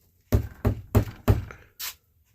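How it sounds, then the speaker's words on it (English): Five firm knocks on a door come in an even rhythm, close and loud, the first four heavy and thudding and the last one lighter, with no voices. "Somebody just knocked on the door."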